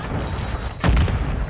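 A Semtex grenade goes off in Call of Duty Modern Warfare 2, one heavy, close boom rising out of game background noise and rumbling briefly before settling.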